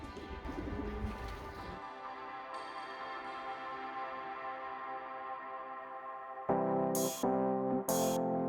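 Racing pigeons at a loft coo in low, throaty repeated calls, loudest and closest toward the end, over an early rustling flutter.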